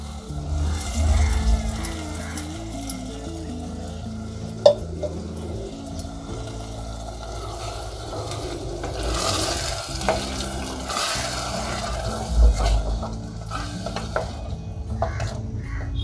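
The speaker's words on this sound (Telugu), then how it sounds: "ఇది కూడా కొంచెం ఆయిల్లో మగ్గే వరకు ఒకసారి మిక్స్ చేసుకుందాం అండి" Coconut-tomato puree is stirred in hot oil in a pan for a mutton curry, with a spoon scraping steadily through the mixture over a soft, continuous sizzle and occasional clinks against the pan, with no talk.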